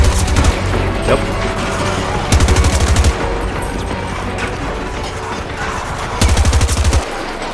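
Rapid bursts of light machine gun fire in the shooter game Battlefield 2042, two loud sustained volleys of several seconds each over constant game background noise and mechanical clatter.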